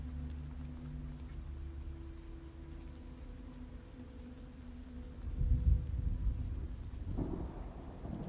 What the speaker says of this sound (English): And a thunderstorm.